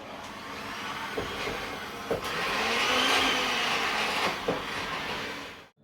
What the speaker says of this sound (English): Now we're going to whisk all this together